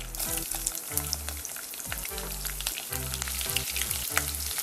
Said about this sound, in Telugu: ఆనియన్స్ ఫ్రై అయిన తర్వాత